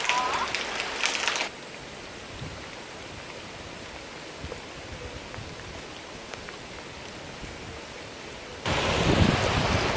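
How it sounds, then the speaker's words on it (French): Steady, dense heavy rain hiss at a waterfall site fills the middle stretch, bracketed by louder bursts of noise at the start and end. "il est en train de pleuvoir à fond"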